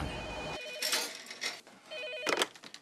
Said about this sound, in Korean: 병원으로 계속해서 걸려오는 장난 전화